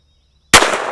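A single sharp gunshot from a Walther PPQ M2 .22lr full-size pistol fired outdoors, an abrupt crack after silence with a short trailing echo.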